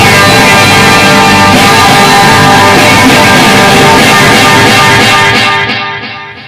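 Electric guitar with effects placed in front of a tube amp, run into distortion, a loud dense sustained chord that holds steady before decaying away at the end.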